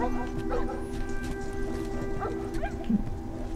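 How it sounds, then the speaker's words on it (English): Dogs barking in The Last of Us, a few scattered barks over steady game background tones, moderately distant and without speech. "Are the dogs gone? No, I can hear them."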